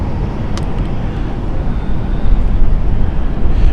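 A KLM airliner departing London City Airport produces a loud, broad low rumble of jet engines, steady and gradually swelling in strength from a fair distance, with no talk over it.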